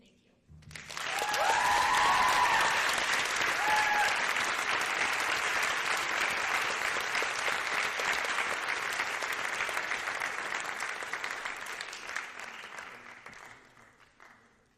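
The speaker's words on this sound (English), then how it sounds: "we need to give them another round of applause" Warm, sustained audience applause after a creative writing senior thesis reading, swelling quickly to a full dense roar of clapping, holding steady for several seconds, then tapering off at the end, with a brief voice near the start.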